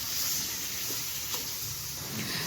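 Soft continuous sizzle of spice masala roasting dry in a pan on a very low flame for a Konkani bamboo shoot curry, steady and close with faint stirring.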